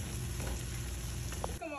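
Banana perilla stirred into cooked tomato stew in a pan, a steady close sizzle with soft scraping through the short stretch, no talking.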